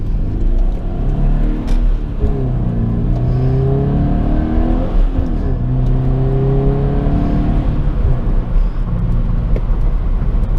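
A Subaru BRZ's engine revs up repeatedly as it accelerates through the gears, rising whine dropping at each shift, heard from inside the car with road rumble underneath.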